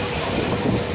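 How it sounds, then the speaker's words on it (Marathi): A train rumbles steadily along its rails in the rain, a dense continuous roar with faint rhythmic clatter heard from inside a carriage, with no voices. "ट्रेन बघतोय."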